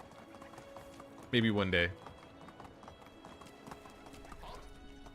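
Horse hooves clip-clopping in the video game Medieval Dynasty, with a short loud neigh early on, then soft rhythmic hoof steps, as someone talks briefly over it.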